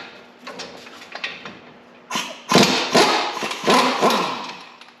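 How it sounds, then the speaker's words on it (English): An impact gun works on the bolts of the front brakes of a 2015-2020 Acura TLX, a close run of sharp metallic bursts and hammering rattles that grows louder in its second half. "Impact gun will make very quick work of that."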